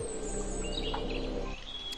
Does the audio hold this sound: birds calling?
yes